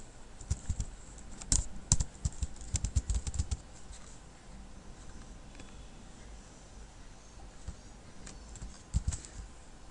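HTML code being typed on a computer keyboard, with clusters of sharp key clicks and clacks near the start and a few more toward the end, over a steady low room hiss.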